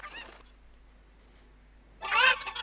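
Chickens (Cuccos) in the video game Zelda Ocarina of Time give two short, nasal clucking squawks, one at the start and a louder one near the end, with near silence between them.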